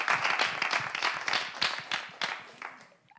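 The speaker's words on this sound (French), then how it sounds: "Donc, applaudissements aussi pour Vision Rose." A small audience at a live event claps in uneven bursts of individual hand claps, close and distinct, then tapers off and stops near the end.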